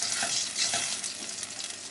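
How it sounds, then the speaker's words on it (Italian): Tomato pulp simmers over a medium flame for an Italian pasta and eggplant timbale, a continuous soft bubbling sizzle heard close up with no voices. "Faremo cuocere la polpa di pomodoro per una ventina di minuti a fiamma media"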